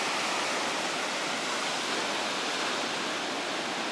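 Large winter sea waves breaking into white foam on the shore at Kuchugury, a loud, continuous broadband roar of surf with no distinct individual crashes.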